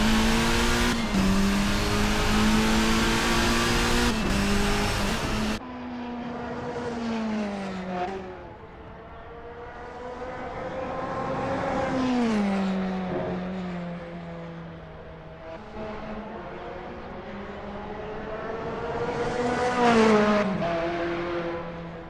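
Lola B05/40 AER LMP2 race cars in a racing video game, engines revving and shifting through gears as several cars pass close by, pitch rising and falling in repeated loud sweeps.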